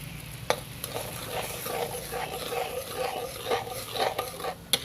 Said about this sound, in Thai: เคี่ยวจนน้ำตาลเริ่มหนืดเหนียวข้นแล้วค่ะ